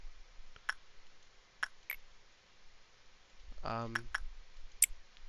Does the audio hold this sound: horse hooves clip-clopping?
no